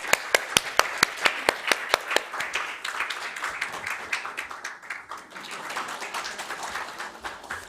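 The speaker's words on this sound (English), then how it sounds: "Please welcome all of three with a big round of applause." An audience at a conference event claps, starting with a few loud individual claps in a quick rhythm that blend into steady, moderate applause before fading slightly, with faint voices underneath.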